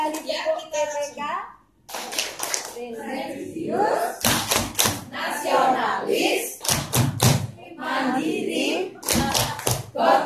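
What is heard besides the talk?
group clapping hands twice in rhythm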